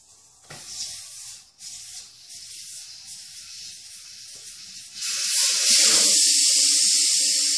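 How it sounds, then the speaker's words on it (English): Air hisses from a tire valve on an Exmark Vantage mower as the core comes out, a soft rubbing hiss rising into a louder, sustained rush of escaping air near the end. "I'm removing it right now. Give me a burst of air."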